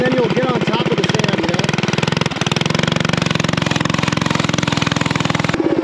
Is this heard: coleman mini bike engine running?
yes